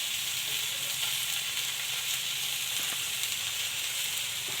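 Chili and turmeric powder fry in hot oil while pumpkin greens cook into a curry, giving a steady, close, even sizzle that carries on throughout with no voices.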